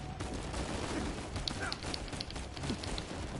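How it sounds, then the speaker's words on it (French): Rapid gunfire from a firefight in Uncharted 4 rattles faintly through a noisy, busy background, with scattered sharp shots. "J'ai tiré contre mes potes."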